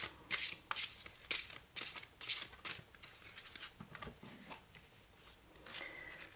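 Large oracle cards are handled and shuffled close by, giving soft repeated riffles and slaps of card stock in an uneven rhythm, faint and without talking.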